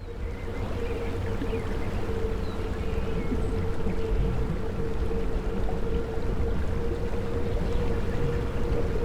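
A steady low engine drone with a constant hum, continuous and fairly loud, from a small boat in the video game Workers and Resources, like a small motorboat idling or cruising on water.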